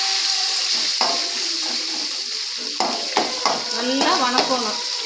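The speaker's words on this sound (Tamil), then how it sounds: "போட்டு நல்லா சோற வணக்கணும்." Cooked rice sautéed in a pan with ginger and garlic, a steady hiss of frying under repeated scrapes and clinks of a spoon stirring against the pan, fairly close and loud.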